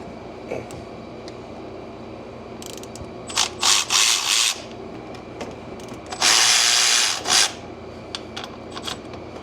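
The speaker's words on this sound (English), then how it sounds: "So I'm going to take my socket and pull those off." A socket ratchet loosens 14 mm bolts on a 2007-2013 Chevy Silverado 4.3L V6 engine. Close, loud clicking comes in two bursts, the second longer, with faint ticks in between.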